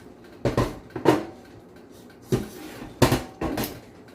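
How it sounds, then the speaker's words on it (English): A pot set down in a kitchen sink while cooking dairy-free butter chicken, giving several sharp metallic clanks and knocks spread across a few seconds, close and fairly loud against a quiet room. "I'm just gonna put that in the sink."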